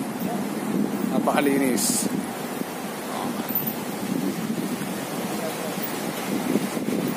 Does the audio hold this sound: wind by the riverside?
yes